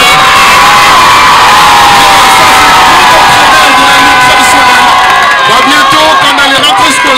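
Loud, saturated crowd noise at a wrestling show, with cheering, whoops and children shouting over continuous clapping, close and overwhelming throughout.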